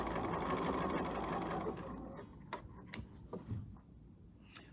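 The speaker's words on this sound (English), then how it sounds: "I'm sewing on the line, right through the X that we just" A sewing machine runs fast and close while stitching along a marked line through a sewn X, its busy whirring chatter fading out after a couple of seconds into a few scattered clicks and ticks.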